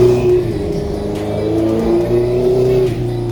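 A Honda CB650R inline four-cylinder motorcycle engine revs steadily, its sustained buzzing growl rising and falling slightly in pitch, loud and close with no talking.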